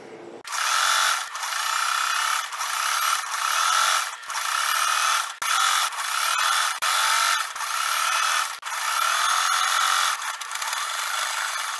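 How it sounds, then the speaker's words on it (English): A sewing machine stitching a fabric casing on a crop top made from men's shirt scraps, running in a loud, close whir broken into short bursts by brief pauses over about twelve seconds. "I'm going to enclose both raw edges of the casing and sew"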